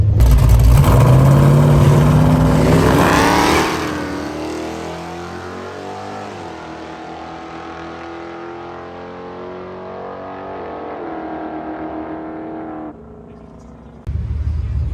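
A drag race car at Ozark Raceway roars loudly at close range with a hard engine howl, then the note drops and trails off into the distance before another loud burst of engine noise cuts in at the end.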